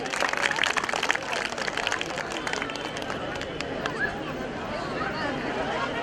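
An audience at a community festival in Dwarka applauds, with brisk clapping strongest at the start and then continuing more softly under crowd chatter and hubbub.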